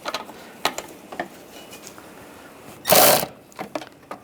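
A screw snugged down on a headlight bracket of a 2013-2016 Dodge Dart, heard as scattered light mechanical clicks and one short, loud burst of ratcheting, close up.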